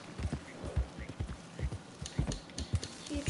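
Hooves clip-clop in a quick, irregular patter, fairly soft and close, like a horse trotting along in the video game Red Dead Redemption.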